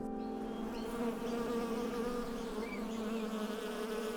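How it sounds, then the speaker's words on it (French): Bees buzz in a steady, droning hum among lavender and almond trees in Haute Provence, several insects close by with occasional rising whines as they move around. "il y a des abeilles"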